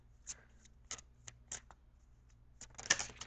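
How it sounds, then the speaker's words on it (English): Tarot cards are shuffled by hand at close range, a quiet series of crisp riffling bursts and soft slaps in an irregular rhythm. "I'm going to shuffle for an outcome card."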